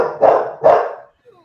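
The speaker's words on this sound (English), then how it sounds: "dogs barking" Two loud barks from a dog, close by and about half a second apart, followed by a short faint yip; no one talks over them.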